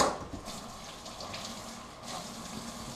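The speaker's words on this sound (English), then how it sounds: "Go ahead and rinse those jalapenos out." Tap water runs steadily over jalapenos being rinsed in a kitchen sink, a continuous close splashing gush with no speech.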